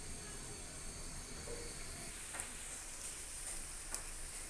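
Dried lotte fish curry simmering in a pan just after water is added, giving a steady soft sizzle and bubbling hiss with a couple of faint clicks, no voices.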